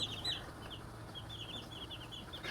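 Chickens kept at home cluck faintly in short, scattered calls over a low, steady background hum, somewhat distant.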